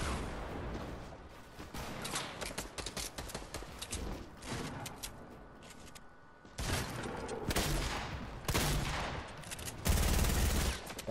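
Video game combat with dense rapid gunfire bursts and heavier rocket launcher blasts, loud and close, in clustered volleys with brief pauses between them.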